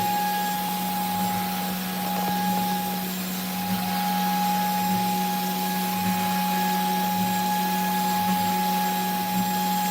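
A TwoTrees 450 Ultra CNC router carves gypsum with a 0.5 mm tapered ball nose bit. A steady spindle hum and whine runs throughout, with faint rhythmic scraping pulses as the bit moves through the material.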